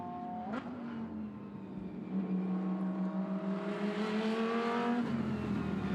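A Lamborghini Huracan GT3 race car of the CKTC Sport team at a Magny-Cours race roars steadily and loudly, its engine note rising through the gears as it accelerates past, with the pitch climbing and dropping across each shift.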